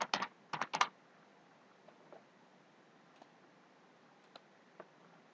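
Quick bursts of computer keyboard typing up close at the start, followed by a few scattered single key clicks in a quiet room.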